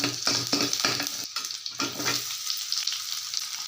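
Onions sautéing in a pan at home, hitting a steady broad hiss with a run of scraping stirs over the first two seconds, then a lighter continuous frying sizzle alone with no talk.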